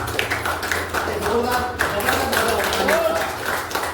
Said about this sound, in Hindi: ताली होनी चाहिए एक जोरदार